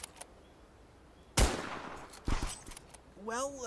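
Practice gunshots ring out as two sharp, loud cracks about a second apart, each followed by a short decaying tail, with quiet gaps around them and a brief higher tonal sound near the end.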